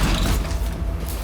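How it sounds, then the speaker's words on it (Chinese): A door opened during a police search of a home, giving a short, close mechanical creak with grinding and rattling over about a second, no voices. "开门。"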